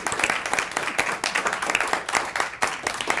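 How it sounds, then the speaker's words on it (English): Audience applause at a Cheyenne City Council ward forum, a smaller crowd clapping in uneven bursts with individual claps distinct, close and fairly loud for a few seconds. "can we give them a round of applause here?"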